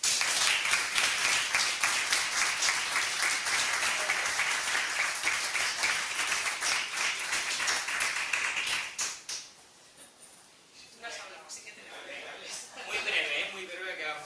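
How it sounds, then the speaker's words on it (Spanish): An audience at a tourism anniversary event gives strong, continuous applause for nine seconds before it fades out, and then a voice starts talking over a quieter room. "Recibamos con un fuerte aplauso al merecedor de tal galardón"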